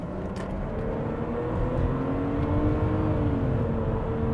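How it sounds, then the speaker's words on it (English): A SsangYong Chairman sedan with an M104 engine accelerates toward highway speed, heard from inside the cabin. The engine drones and rises steadily in pitch under continuous road and wind noise, with no talking. "here we are driving the SsangYong Chairman. We got to get up to highway speeds."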